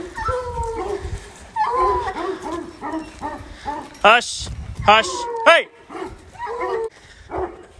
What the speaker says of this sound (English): When they bark like this, we don't pay attention to them.